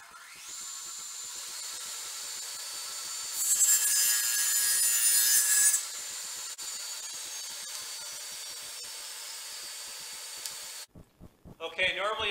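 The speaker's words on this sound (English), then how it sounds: "all I'm going to do is make one cut. It'll cut all four pieces exactly the same length." A power saw makes a single cut through four small wooden coaster pieces at once. The high whine rises into a loud, steady cutting burst for a couple of seconds, idles down, and then gives way to clattering handling noises.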